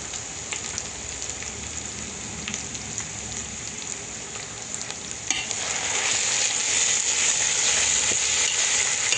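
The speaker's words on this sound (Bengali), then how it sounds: "এখন পেঁয়াজের মধ্যে কাঁচামরিচ দিয়ে দিব" Onions with green chilies frying in a pan give a steady, close hiss and crackle with occasional stirring scrapes, growing louder and brighter midway through as the sizzle intensifies.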